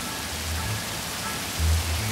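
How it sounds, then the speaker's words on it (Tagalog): Steady rain falls as a continuous soft hiss, moderately loud and even throughout, with a low rumbling swell near the end and no voices. "baka nga mahiwaga ang ulan"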